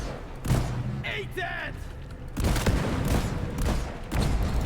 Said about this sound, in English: Oh, sniper turret up there.